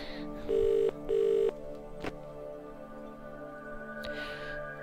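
Telephone in the video game The Dream Machine, heard as two clear electronic ringing tones in a row over a steady background hum, with a couple of faint clicks afterward.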